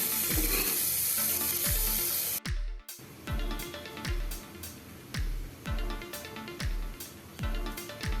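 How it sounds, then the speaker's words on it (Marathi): Two dried red chilies frying in a pan for tomato masala rice, a steady loud sizzle with repeated sharp clinks of a spoon against the pan, briefly dropping out partway through. "यामध्ये आपण दोन लाल सुक्या मिरच्या सुद्धा घातलेल्या आहेत ते पण आपण थोडस फ्राय करून घेऊया"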